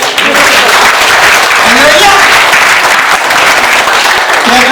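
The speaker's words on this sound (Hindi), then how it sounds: "तालियां बजाओ मुझे।" An audience at a Holi poetry gathering applauds, a loud continuous wash of clapping with voices mixed in throughout.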